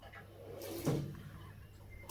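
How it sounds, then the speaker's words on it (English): A drawer slides open with a short scraping rumble, close and moderately loud, against a quiet room background. "So, top drawer, Holly."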